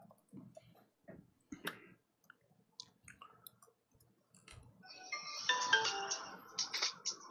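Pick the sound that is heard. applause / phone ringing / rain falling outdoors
phone ringing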